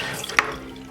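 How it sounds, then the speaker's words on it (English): Water runs steadily from a bathroom sink faucet while a cheap party wig is rinsed beneath it, with one brief louder splash against the constant close hiss. "we're just going to use the sink here and rinse it out"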